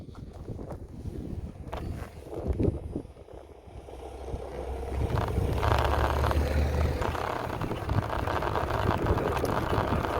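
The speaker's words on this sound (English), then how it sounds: "I'm just going to go for the throttle only, just a twist throttle on its own" An Ersin 1000 hybrid bike pulls away on twist throttle alone, its low motor hum rising and steadying as it accelerates, with heavy wind rumble over the microphone and no talking.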